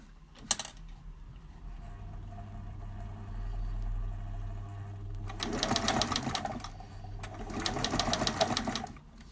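A sewing machine runs in two short, close bursts of rapid stitching, zigzag and back stitch, on a coiled rope bowl, with a faint click and a low hum between the runs.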